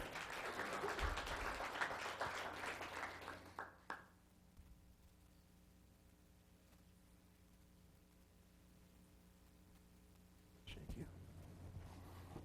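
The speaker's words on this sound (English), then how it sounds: "so another round of applause for them" Applause for honorees at a Los Gatos town council meeting, a dense burst of clapping for about four seconds that cuts off, followed by a quiet room with a low hum and a brief stir near the end.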